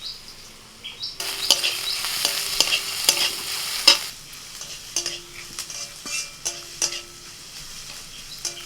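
Chopped green chili tossed into hot frying oil sets off a bright, crackling sizzle, while a utensil stirs and scrapes the pan in a series of sharp metallic taps.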